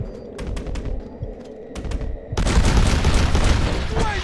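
Gunfire erupts in a Red Dead Redemption gate assault: scattered close shots and clatter at first, then a sudden dense roar of rapid fire and blasts that keeps going, loud and crowded.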